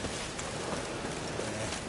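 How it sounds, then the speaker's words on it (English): Steady rain falls in The Witcher 3: Wild Hunt, an even, hissing wash with no breaks and no talk. "Witches have conjured rain."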